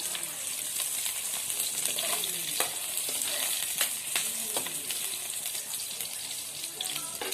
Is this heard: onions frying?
yes